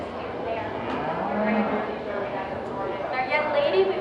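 Steer or cattle in a junior beef show ring at a county fair, lowing at moderate distance amid crowd murmur and an announcer's voice over a loudspeaker.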